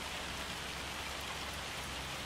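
Steady, even rain falls on an Iowa farm, forming a constant wash of dense patter with no breaks or voices, close and moderately loud throughout.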